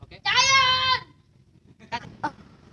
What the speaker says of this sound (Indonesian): Di sini ada kawanan kambing.